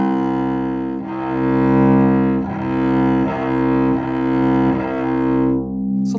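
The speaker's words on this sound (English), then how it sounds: "if you use the proper amount of bow, you'll get a nice clean sound like this" Cello bowed with the proper amount of bow for a clean tone, with long sustained rich notes and steady bow changes, played close and loud with no voices.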